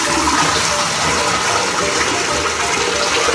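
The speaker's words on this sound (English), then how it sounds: "this is my downstairs dehumidifier and I pour the water out every 2 days." Water from a home dehumidifier's collection tank gushes out in a steady, loud pour, filling the whole short stretch without pause and with no voices.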